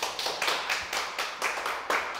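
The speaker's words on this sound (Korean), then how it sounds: "우리 스스로를 격려하는 차원에서 우리 박수 한번 하고" Seminar audience clapping together in a lecture hall, a dense burst of many hands with a steady pulsing rhythm, fairly close and moderately loud, with no talking.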